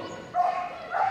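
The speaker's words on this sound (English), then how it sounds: "barking away around this really tricky course over the irons, over the seesaw" During an intermediate/large agility final at Crufts, a dog runs the course past hurdles and a seesaw, giving two sharp, close barks a little over half a second apart.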